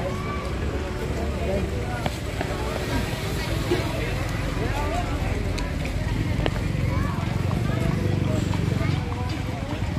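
Horses clip-clop on pavement at a busy tourist spot in Baguio, with faint hoof taps scattered through a crowd and voices that carry on throughout.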